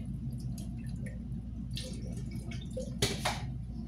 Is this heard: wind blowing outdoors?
no